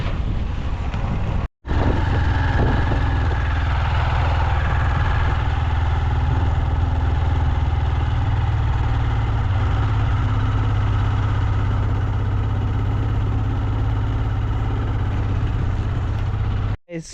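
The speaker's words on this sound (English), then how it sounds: "So that's my motorbike over there." Motorbike engine idling outdoors in bad weather: a steady, low, rumbling drone that holds for the whole stretch, with wind buffeting the microphone and a brief dropout near the start.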